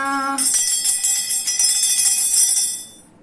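A cluster of small bells jingles and rings continuously for a few seconds, bright and close, then fades out abruptly.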